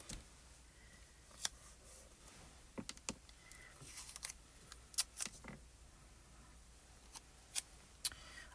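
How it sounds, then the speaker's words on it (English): Strips of washi tape are pulled and pressed down to hold paper in place, giving scattered sharp crackles and ticks at uneven intervals, close and quiet, with no one talking. "I'm going to use some washi tape just to tape this down"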